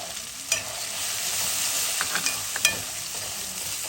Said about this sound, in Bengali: আমি কিন্তু মশলাটা কষে রেখে দিচ্ছি